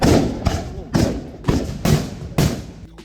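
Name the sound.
volley of historical guns fired at Osaka castle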